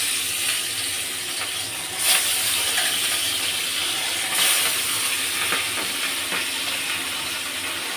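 Hilsa fish frying in hot mustard oil gives a steady, close sizzle and hiss throughout, with a couple of louder spitting bursts and a few faint clinks.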